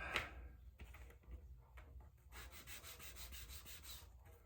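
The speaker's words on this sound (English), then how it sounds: "Just do a little sanding on it." Steady abrasive rubbing strokes of sanding on a metal engine oil pan, close by, with a brief sharper scrape near the start and a continuous gritty hiss through the second half.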